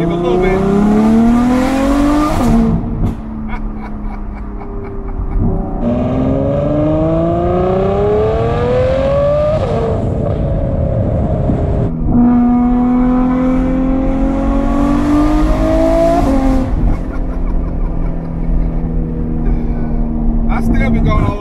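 A straight-piped Ferrari F12 V12 screams through repeated hard accelerations on a highway in traffic. Its loud, rising engine note climbs through several gear changes, dropping sharply at each shift before winding up again.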